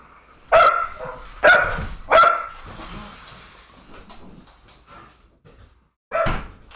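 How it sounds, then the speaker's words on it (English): A dog in the background barks in three separate loud yaps, spaced about a second apart, then goes quiet before one more bark, heard during an online tabletop role-playing game session. "I'm sorry if you hear that dog, folks."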